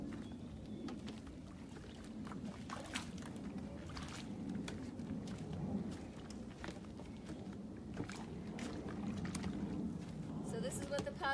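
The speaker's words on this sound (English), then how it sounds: "So this is what the paddle looks like in use. Nice and smooth entry and release." A Werner Zen paddle strokes the water from a stand-up paddleboard during SUP yoga, giving soft, quiet splashes and drips at an unhurried rhythm against faint wind outdoors.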